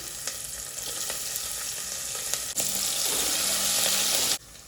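Ginger and green chilli pieces go into hot oil for a vegetable biryani, giving a steady close sizzle that jumps to a louder, fuller crackle midway and then cuts off abruptly, with no talking.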